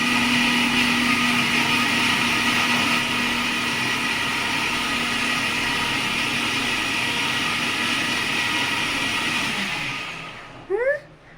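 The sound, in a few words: mixer grinder running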